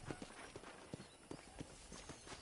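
Horse hooves in Red Dead Redemption clip-clop in a quick, uneven rhythm, faint and close, with soft thuds repeating throughout.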